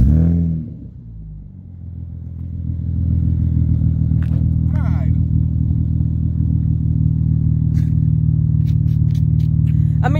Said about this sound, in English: is the Z's idle that much louder than the Honda's idle?